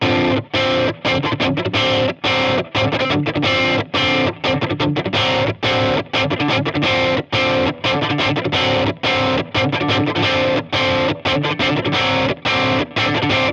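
A distorted electric guitar plays the pre-chorus riff of a song steadily with crunchy, saturated tone, chugging rhythmically with brief gaps between phrases.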